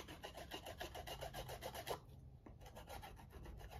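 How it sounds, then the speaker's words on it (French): An eraser rubs briskly on a die-cut paper box, making a quiet, rapid back-and-forth rasping with a short pause midway. "Je vais essayer de gommer un peu là."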